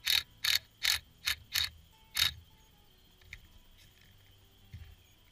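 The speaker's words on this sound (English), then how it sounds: "These short Tapcons go in very easily." Short Tapcon concrete screws driven in by a power driver for copper parapet ridge cap tiles, six brief whirring bursts in quick succession, close and loud, followed by faint clicks and quiet handling.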